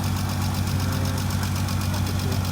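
An old car that sat parked for five years idles with a noisy, tappy valvetrain, a close, steady engine drone with rapid regular ticking running throughout.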